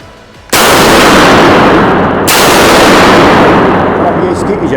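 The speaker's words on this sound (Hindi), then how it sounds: "ये था ओवर अंडर का फायर, जो कि आपको मैंने अभी फायर करके दिखाया" A Stallion Sports STE-210 over-under shotgun fires two loud blasts about two seconds apart, each a sharp, close, booming report followed by a long roaring sustain.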